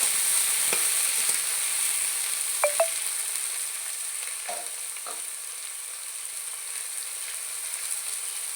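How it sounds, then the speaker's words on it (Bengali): Eggplant fries lightly in oil with nigella seeds, a steady, close sizzling hiss, a few clinks of a utensil early on, then settling into an even, quieter crackle. "বেগুনটাকে একটু হালকা ভেজে নিই"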